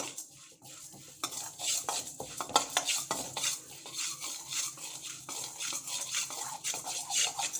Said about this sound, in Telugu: బాగా ఇది చిటపటలాడి ఈ పప్పులన్నీ కూడా దూరగా వేగేదాకా వేయించుకుందామండి